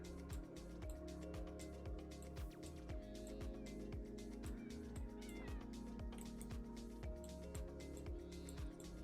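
Several cats meow repeatedly in a Sims video game, over a constant bed of rhythmic game music and faint clicking.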